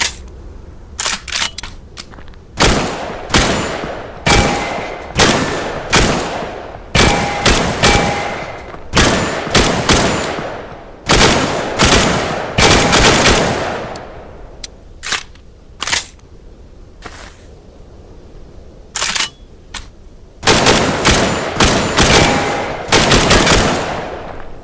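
A machine gun loaded with a 20-round box magazine of 7.62 NATO cartridges fires loud, close bursts of rapid shots separated by short pauses, with a longer lull midway before heavy fire resumes.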